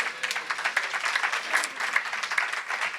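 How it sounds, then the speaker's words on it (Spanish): Applause from a church congregation during an evening service, a steady medium-distance patter of many hands clapping that continues evenly throughout. "¿Cuánto puede dar un aplauso al Señor en esta noche?"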